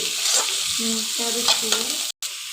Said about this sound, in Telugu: ఇప్పుడు మనం ఆనియన్స్ వేసుకుందాం. ఆనియన్స్ ఫ్రై అవ్వాలి.